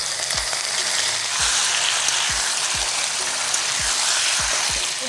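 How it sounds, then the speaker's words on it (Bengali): Chicken pieces sizzling loudly in a pan of fried onions for a village-style Bengali curry, a dense, hissing fry with faint low knocks repeating every half second or so, close up and with no talking. "এবার এর মধ্যে আমি চিকেনগুলোকে অ্যাড করে দেব।"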